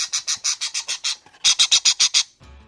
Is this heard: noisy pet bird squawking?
yes